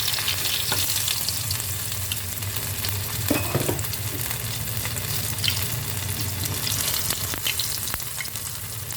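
Prawn burger patties fry in overheated oil with a steady, dense sizzle, crackling and spattering close by, with a few sharper pops and stirring clicks throughout.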